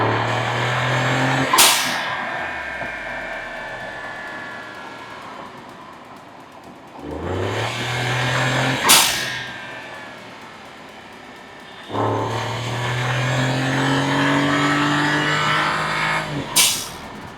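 A VW Polo GT TSI fitted with an aftermarket air intake drives past three times, each pass rising as the engine revs, then fading, with a faint whoosh between runs.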